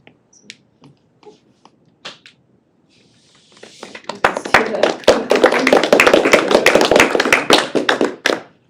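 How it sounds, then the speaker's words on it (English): Scattered quiet sounds give way to a burst of steady applause, many hands clapping densely and loudly for several seconds before trailing off. "Hold your applause"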